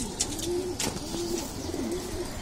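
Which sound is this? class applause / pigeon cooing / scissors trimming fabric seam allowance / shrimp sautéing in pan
pigeon cooing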